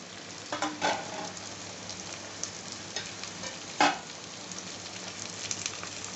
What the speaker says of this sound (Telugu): వేగిన తర్వాత ఇప్పుడు వెజిటేబుల్స్ యాడ్ చేసుకుంటున్నా